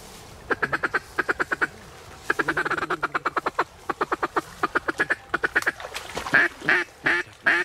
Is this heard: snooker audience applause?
no